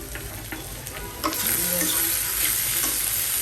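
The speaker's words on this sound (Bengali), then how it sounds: "আমি আলু আর উচ্চ আর পেঁয়াজ দিয়ে যে ভাজি করতেছি" Potatoes and onions fry in a pan with a constant close sizzle, broken by occasional scraping and stirring clatter that grows a little louder partway through.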